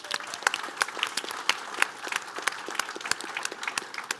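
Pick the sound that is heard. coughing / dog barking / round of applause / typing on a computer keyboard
round of applause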